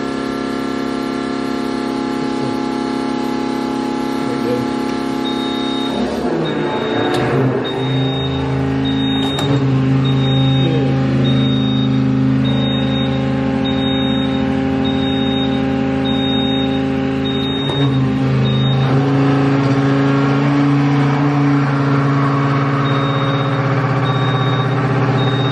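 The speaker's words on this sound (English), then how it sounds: "All right, I got the pump running here." Fuel transfer pump running beside a Kubota KX057-4 excavator, a steady loud droning hum that holds without a break for the whole stretch and has some faint clicks and shifting tones on top.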